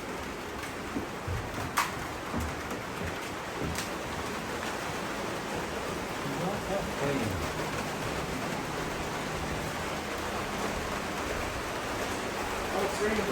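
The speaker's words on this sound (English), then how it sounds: "it's raining pretty hard" Heavy rain falls at an aviation museum, a dense, steady hiss of drops on surfaces that stays fairly even and moderately loud, with a few sharper taps standing out.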